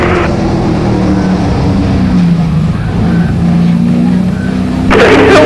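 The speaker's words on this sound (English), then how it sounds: "Green flags here at Delaware Speedway, and they go in and turn number one" Race cars at Delaware Speedway roar into turn one at the green flag, a steady, loud engine drone with shifting pitch, rising sharply near the end as cars sweep past.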